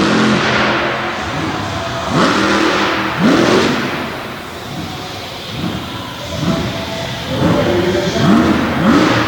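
A Chevrolet monster truck engine revs hard in repeated rising surges during a wheelie competition at a monster truck event in Du Quoin, Illinois, loud and continuous with no talk.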